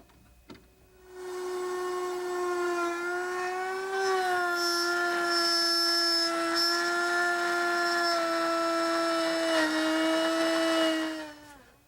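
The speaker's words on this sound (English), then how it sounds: "I'm just going to raise the router up a little bit to cut the mortise deeper." A router cutting a mortise in a poplar chair-table workpiece whines with a steady high-pitched tonal drone after a brief start-up, running loud and continuous for about ten seconds before slowing slightly near the end.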